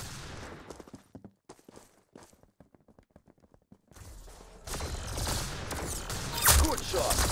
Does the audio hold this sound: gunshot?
yes